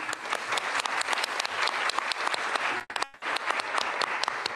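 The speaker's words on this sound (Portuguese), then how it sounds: "Se a Thaís não tivesse pedido uma salva de palmas, eu pediria" A crowd applauds at a corporate sustainability event, a dense, loud burst of clapping that runs throughout with one brief dip in the middle before picking back up.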